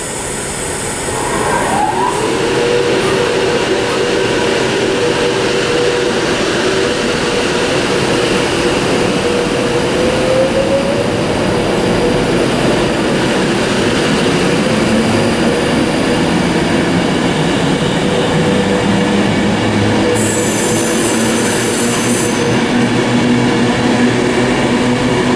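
The Avanti West Coast service from Glasgow Central pulls out of Carlisle bound for London Euston. A loud, sustained rail rumble builds with droning motor tones, and a short high squeal sounds partway through.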